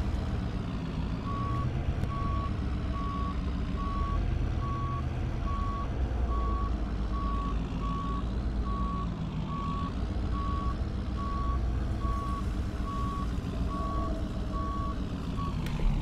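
A service truck in the video game Farming Simulator 19 rumbles at low idle while its reversing alarm beeps steadily and evenly for the whole stretch, close and clear over the engine drone.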